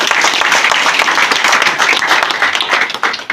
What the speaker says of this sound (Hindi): तो इनके लिए एक बार जोरदार तालियां बजा देंगे।